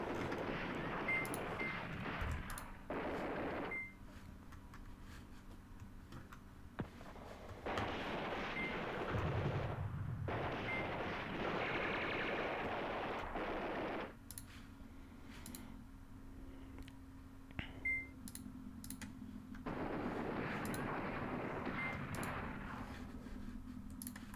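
Artillery bombards a town in Command Ops 2, with heavy rumbling barrages arriving in several long rolling waves separated by quieter gaps and a low steady hum.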